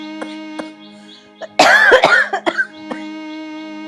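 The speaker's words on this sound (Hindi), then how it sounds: "दुखी हो रही इस खांसी से बार बार।" An elderly woman coughs harshly in a cluster of rough, throaty bursts, heard close over a steady tonal music bed, with a couple of quieter throat sounds before and after.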